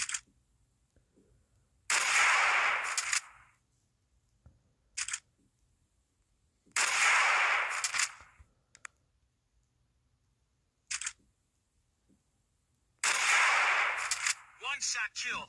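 Sniper rifle fire in the Hunting Sniper video game comes as three loud, punchy blasts spaced several seconds apart, with short mechanical clicks of bolt or scope handling between them.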